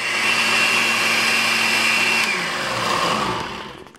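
An Oster 900-watt blender chops a smoothie with a loud, steady motor whir and a busy high churning roar, then winds down and fades over the last half second as it shuts off.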